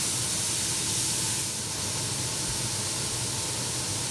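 Onions stir-fried in a pan for homemade bacon jam give off a steady close sizzling hiss, even and continuous with a slight dip midway, with no talking.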